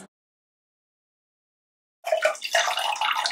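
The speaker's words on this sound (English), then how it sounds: "I'll grab a little bit more water to give these beans a rinse." Water poured over black beans to rinse them, a steady splashing stream that starts abruptly after two seconds of silence and runs on loud and close.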